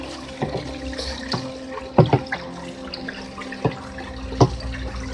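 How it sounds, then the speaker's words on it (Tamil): Liquid waste decomposer solution being poured and transferred into a 20-litre batch, a close, continuous splashing trickle with several sharper sloshes and glugs scattered through it. "20 லிட்டர் எடுத்து நம்ம அதுக்கு மாற்றுறோம்."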